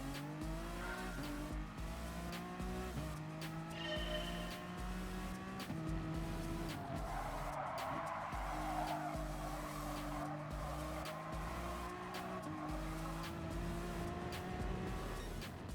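Tires squeal in oversteer as a car powers out of a corner in GT Sport, the engine droning and shifting gears under a continuous, loud skid in the game.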